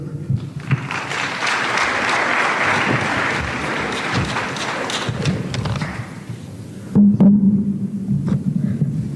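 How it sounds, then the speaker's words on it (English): An audience at a university career day applauds with sustained, dense clapping for several seconds that thins out, followed by a few louder thumps and handling noises nearby. "a good round of applause"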